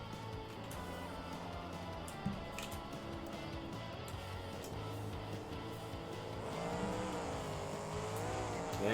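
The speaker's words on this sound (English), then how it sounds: "we got some trucks pulling out here" Monster truck engines in BeamNG.drive, Gravedigger among them, pulling onto a racing track; a steady layered engine drone runs throughout, swelling and climbing in pitch near the end, with no talk.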